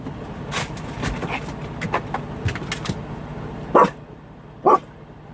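Two sharp dog barks at her own reflection in a window ring out near the end, spaced about a second apart, over a busy background of indistinct household noise and rustling.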